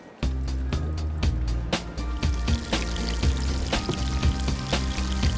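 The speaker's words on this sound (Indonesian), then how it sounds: "Sekarang saya akan goreng ikannya." Fish seasoned with salt and pepper drops into a hot pan, bursting into loud, steady sizzling with crackling pops up close.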